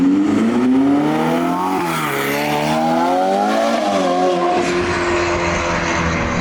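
A Novitec Ferrari F8 N-Largo sports car engine roars loudly and close by on Johannesburg streets, its pitch rising and dipping as it accelerates and eases off while driving.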